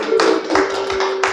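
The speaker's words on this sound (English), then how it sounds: "a resounding hand of applause" Applause at a traditional gathering honouring a ruler, a crowd's hands clapping in dense bursts that swell and dip over a second or so, loud and close with no talk over it.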